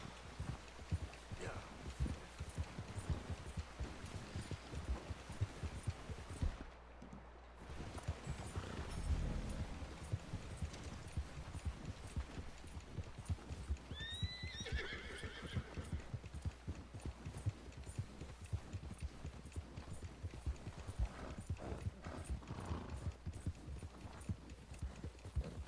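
Horse hooves clip-clopping in a steady walking rhythm throughout, with a brief whinny partway through, moderately close and under occasional talk.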